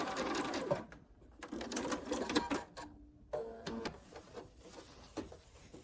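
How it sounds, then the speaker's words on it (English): A sewing machine stitches quilt pieces along a seam in rapid whirring bursts, stopping briefly between runs, close and clear with no talking. "my aim is to get right to that seam and sew right down along it"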